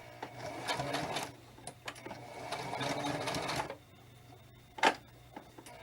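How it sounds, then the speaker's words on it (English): A sewing machine stitches fabric for a handmade spirit doll, a close, rapid mechanical whirring in two bursts of stitching separated by a pause, followed by a single sharp click. "You're going to stitch it and then do a back stitch."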